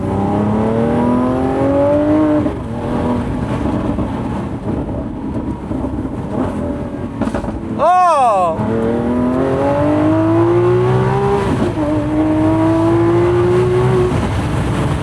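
A Lamborghini SVJ Roadster revs hard, its engine note rising in long sweeps, then roars close past with a sharp pitch drop around the middle before revving again; a voice exclaims briefly over the loud engine.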